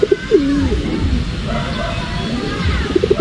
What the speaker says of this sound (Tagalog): So ito mga kalapatids